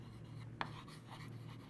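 Pen writing down physics equations for resonance in an LCR circuit, a short faint scratch with one soft tap, close and quiet against a steady background hum.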